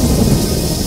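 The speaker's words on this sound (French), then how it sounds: "Un éclair frappa Molly." Thunder from a lightning strike in a storm, a loud, heavy rumble that rolls on continuously with rain-like hiss over it.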